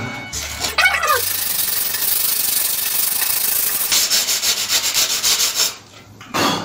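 Abrasive rubbing of sanding against a ceramic tile edge, a continuous gritty scrape that turns into quicker back-and-forth strokes before a brief pause.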